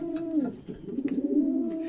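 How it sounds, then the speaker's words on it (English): Several pigeons coo together in a low, rounded chorus, a steady warbling call that stays close and fairly loud for about two seconds with no voices over it. "the pigeons let go a combined call and said to each other"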